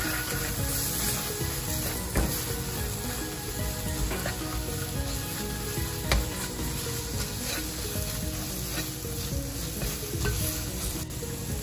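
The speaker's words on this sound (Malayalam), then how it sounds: "ഇത് ആദ്യം ഒന്ന് വഴറ്റി നല്ല ഇങ്ങനെ ഈ എണ്ണയെ കിടന്ന്" Spices sizzle steadily in hot oil for a Kerala-style curry, with occasional scraping and stirring clicks from a spoon against the pan.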